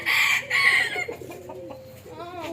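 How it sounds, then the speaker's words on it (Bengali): A rooster crows loudly and close among silkie chickens, pheasants and other fowl at an eco resort in Bangladesh, followed by softer clucking calls from nearby hens. "মুরগির ডাক, অনেকদিন পরে মোরগের ডাক।"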